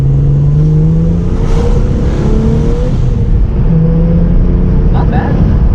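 A car's engine drones steadily while driving, a loud continuous hum under road noise, with people talking inside the cabin over it.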